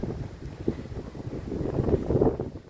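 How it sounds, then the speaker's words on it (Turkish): Strong gusting wind buffets the microphone with a low, rumbling roar that swells and fades over the short stretch. "Bayağı bir rüzgar, bu geceden beri müthiş bir rüzgar vardı."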